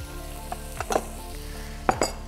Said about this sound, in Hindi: अब इन चावलों में हमने तेल डाला है। तेल डाल के हमने अपने बॉयल्ड राइस डाले हैं।